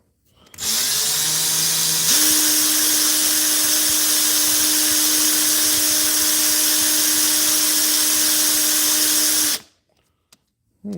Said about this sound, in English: Well, I guess let's just sand it down.